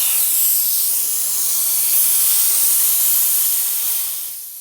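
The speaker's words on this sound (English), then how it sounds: "I'm gonna go ahead and bleed the compressor." High-pressure air bleeding from a 5,000 PSI commercial compressor fill system: a loud, steady rushing hiss that holds for about four seconds, then tapers off at the end.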